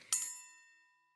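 A notification bell sound effect gives a single bright, ringing ding that strikes sharply and then fades smoothly over about a second, alone with no talking.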